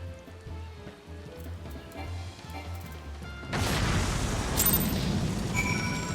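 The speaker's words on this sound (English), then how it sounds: "Get back. Explosion imminent." A loud, sustained explosion in the video game Final Fantasy XIV bursts in partway through and rumbles on to the end, following a stretch of layered game music.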